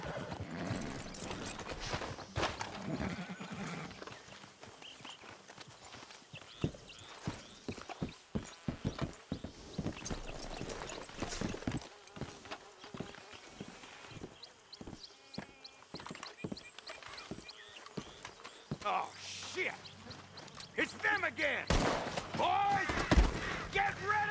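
Horses in the Red Dead Redemption video game clip-clop with sharp, irregular hoof strikes and neigh now and then, close by, with a voice talking among the sounds.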